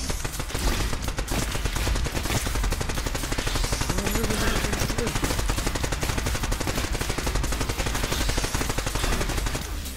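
Continuous rapid machine-gun style gunfire from shooting in a video game, a dense unbroken rattle that stays loud and close throughout, with no talking.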